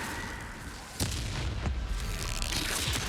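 Incendio fire spell cast in Hogwarts Legacy, a dense roaring whoosh with a sharp burst near the middle and rumbling game noise throughout.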